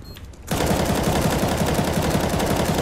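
Automatic gunfire in CS:GO on the Overpass map bursts in after a short quiet start, a dense, loud, rapid stream of shots that carries on to the end.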